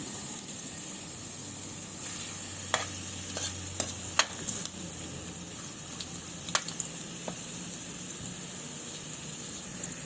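Ginger sizzles steadily in hot cooking oil in a pan, a constant close frying hiss broken by a few sharp crackles and pops, with no one talking over it.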